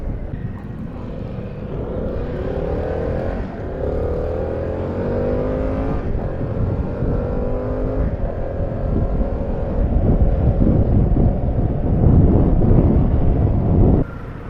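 Harley-Davidson Pan America motorcycle cruising on a highway, its engine a steady low drone under heavy roaring wind buffeting the microphone, with the pitch shifting slightly before the wind noise cuts down near the end.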